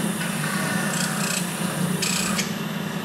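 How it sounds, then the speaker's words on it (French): Turned wood spinning on a lathe is sanded with a continuous dry rasping rub, steady and close, over the low drone of the lathe motor for about three seconds. "après tu peux poncer, sabler le matériel"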